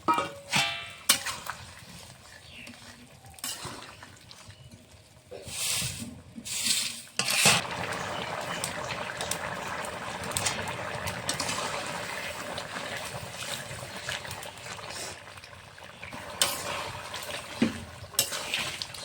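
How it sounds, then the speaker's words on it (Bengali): A Bengali curry of sweet pumpkin and small fried shrimp simmering in a pot, with a soft bubbling, watery burble and occasional utensil clinks and knocks against the pot. "ভেজে রাখা চিংড়ি মাছগুলো দিয়ে দেবো মাছটা দিয়ে আমি কিছুক্ষণ ফুটিয়ে নেব ভালো করে"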